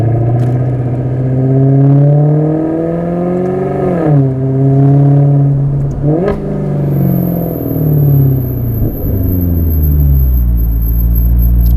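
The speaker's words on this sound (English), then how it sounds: "The whole exhaust note has been perfectly crafted to sound so amazing." A 2015 Maserati GranTurismo's engine and exhaust drone loudly and continuously while driving, the deep tone rising and falling through gear changes and throttle shifts with a steady heavy rumble.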